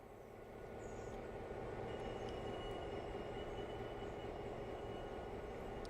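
A locomotive called Throbber hauling a single car in Railroader, a low, steady rumbling drone that swells in the first second and then holds evenly, faint and without talk.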